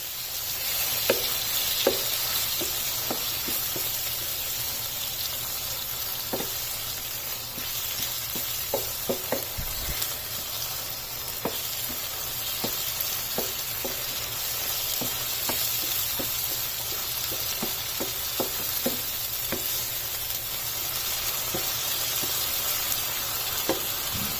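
Yogurt being stirred into mutton jalfrezi in a hot pan, a steady sizzling fry with scattered soft clicks of a spoon against the pan throughout, close and continuous with no talking.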